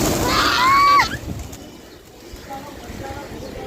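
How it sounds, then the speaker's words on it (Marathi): Pigeons coo near a flock gathered in an open family outing spot, one loud rising call up close followed by softer, fainter coos against background murmur and movement. "हे बघा किती सारे कबूतर आहे"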